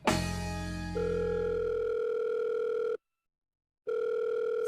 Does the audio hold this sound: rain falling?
no